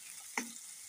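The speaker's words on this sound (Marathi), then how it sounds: "छान मिरची भाजून द्यायची." Green chillies roast in a hot pan for an okra fry, a steady soft sizzle with one brief clink of a spatula or ladle against the pan.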